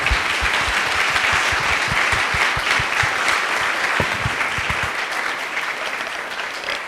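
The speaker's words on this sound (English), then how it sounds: "How about a round of applause?" A conference audience applauds a panel, sustained close crowd clapping that stays dense and steady for several seconds, tapering slightly at the end.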